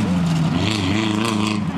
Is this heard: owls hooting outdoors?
no